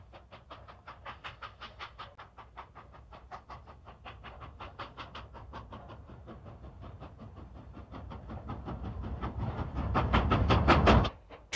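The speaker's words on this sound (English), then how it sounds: "Train 70, the coaster, heads out of town powered by a new GS4." A Coast Daylight passenger train hauled by a new GS4 steam locomotive pulls out of town, its exhaust chuffing in a steady rapid rhythm that grows louder and closer toward the end, with no voices.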